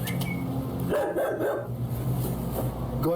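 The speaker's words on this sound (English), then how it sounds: "We have a loose dog that's around the scene" A loose dog barks near a police scene, with several sharp, fairly close barks and short yips over a steady low background hum. No one speaks.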